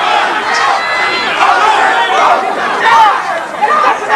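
A boxing arena crowd at an IBF junior welterweight title fight chants the fighter's name Gary, a loud, dense wall of voices rising and falling in waves throughout.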